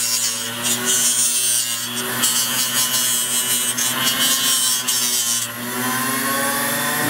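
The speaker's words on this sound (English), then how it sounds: "So we're going to clean it up. We have a fine grinding wheel right here." Fine grinding wheel removing burrs from a piece of jewelry metal, a steady high whirring grind with brief contact surges, close and continuous with no talk.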